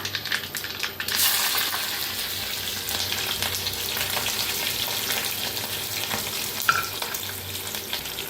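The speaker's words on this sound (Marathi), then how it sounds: "चांगलं गरम झालंय, त्याच्यात टाकूया मोहरी 1 चमचा भर" A spoonful of mustard seeds crackles and sizzles in hot oil for a tempering, with green chillies and curry leaves, making a continuous close frying hiss with small popping ticks and a sharp clink near the end.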